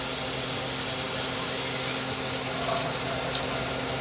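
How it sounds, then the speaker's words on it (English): Water pours steadily into a cooking pot while dinner is being made, a continuous close rushing splash that stays even throughout. "let's add some water."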